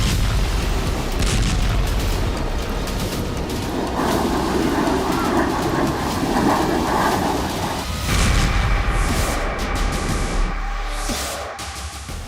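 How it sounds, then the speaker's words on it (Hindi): Bombing in war footage from Syria brings heavy, continuous booming and rumbling, a dense, loud roar that swells and shifts throughout, with a sharper burst of blasts near the end. "वीडियो एक ऐसी बमबारी का है जो अर्दवान के लड़ाकों को ताकत देगी"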